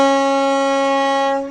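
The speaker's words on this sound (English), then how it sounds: "the Washington State Ferry foghorn" Washington State Ferry foghorn sounding one loud, steady, sustained tone with rich harmonics, held for over a second before tapering off at the end.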